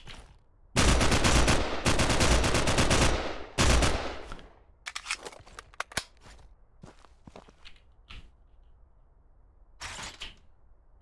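Bursts of automatic gunfire in the indie shooter Frost League come in long, loud sustained volleys, then give way to scattered single shots and footsteps with quiet gaps between.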